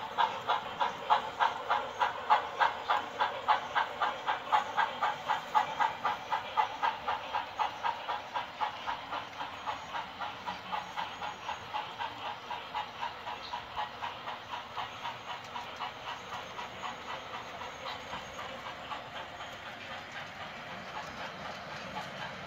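Model railroad train on a double-track main line of an HO-style layout, a steady rhythmic clickety-clack of wheels over rail joints with a hissing hum, fairly quiet and slowly fading as it moves along, no voices.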